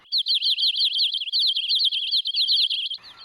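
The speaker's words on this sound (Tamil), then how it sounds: "அங்க பாருங்க, பறவைக எம்புட்டு இருக்கு இந்த மரத்துல." Birds singing in a tree give a rapid, high, repeated chirping trill that stays close and steady for about three seconds, with no voices.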